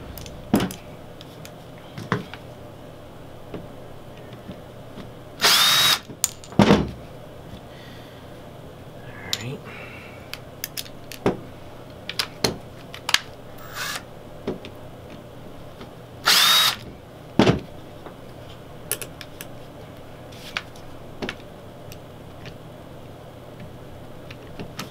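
A power drill backs out the screws from a mounting post in two short, loud whirring bursts, with scattered clicks and handling noises between them and faint background sounds throughout.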